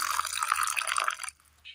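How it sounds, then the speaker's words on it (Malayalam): Water pours briefly into a mixer jar, a bright splashing gush lasting about a second before it stops. "ഇതിലേക്ക് അരയ്ക്കുവാൻ ആവശ്യമായ വെള്ളം ചേർത്ത് കൊടുക്കാം."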